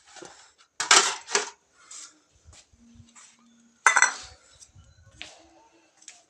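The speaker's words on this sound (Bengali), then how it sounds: "এখন দেখো থাল ধুয়ে নিয়ে আসলাম" Freshly washed metal plates and dishes are set down one after another, giving a few sharp clanks and clinks with quieter rattles in between, close by and with no talking.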